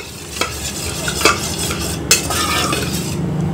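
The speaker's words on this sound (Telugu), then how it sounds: "కొంచెం నీళ్ళు వేసుకొని బీట్ చేసుకోండి" Batter beaten with a little water in a bowl, an utensil scraping and tapping against the sides in irregular strokes, with a few sharper clinks, close and alone.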